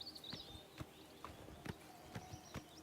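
A horse in Oblivion Remastered walks with quiet, evenly spaced clip-clop hoofbeats, about six steps, set against faint ambient sound.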